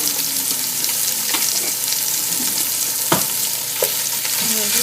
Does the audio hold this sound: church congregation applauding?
no